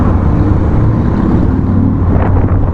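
A Harley-Davidson motorcycle rolls past up close, its deep, loud engine rumble holding steady for under three seconds with a brief rise near the end, and no voices over it.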